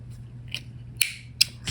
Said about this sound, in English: And then I would just take my scissors,